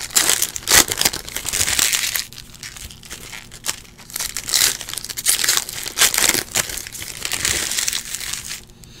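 2018 Optic Baseball trading card packs are torn open up close, with loud crinkling foil wrappers, sharp ripping bursts and rustling handling that continue through the whole stretch.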